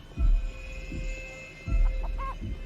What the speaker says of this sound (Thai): เฮ้ย เสียงไก่มา